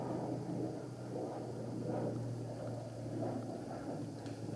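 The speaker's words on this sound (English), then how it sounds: "There's a really low flying helicopter flying over my place right now." A low-flying helicopter passes overhead, a steady droning rumble with a low hum holding throughout at moderate level, swelling slightly in places, with no talk.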